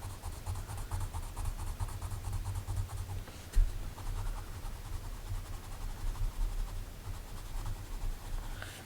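A colored pencil scratches hard and steadily across paper, a continuous close, dry rubbing texture with rhythmic stroke pulses and one brief louder knock partway through, no talking.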